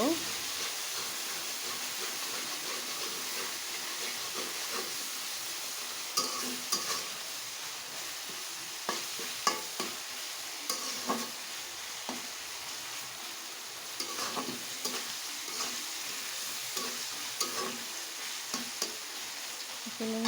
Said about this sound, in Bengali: খুব ভালো করে নাড়াচাড়া করব